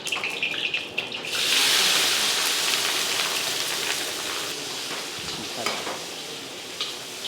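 Capsicum and grated coconut frying in about 100 ml of oil for bisi bele bath, a steady loud hissing sizzle that jumps up after a second, with occasional stirring clatter.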